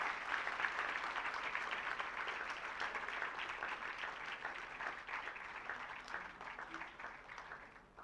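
A room full of people applauds an honored guest at an education event, with sustained, even clapping that carries on for several seconds before tapering slightly toward the end.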